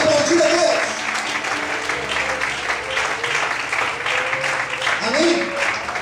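A church congregation applauding, dense continuous clapping throughout with voices and shouts mixed in under it.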